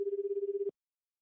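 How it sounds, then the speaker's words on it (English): A phone ringback tone from 428: Shibuya Scramble, heard as a single steady pulsing electronic tone lasting under a second before stopping into silence. "The phone rang several times."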